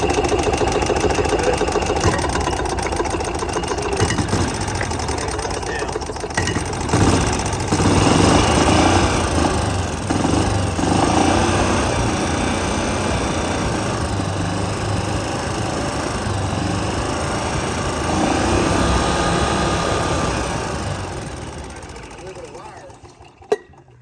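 Club Car gas golf cart engine running steadily close by, with small rises in revving while someone works on its wiring and RPM limiter, then dying away near the end; voices speak over the noise.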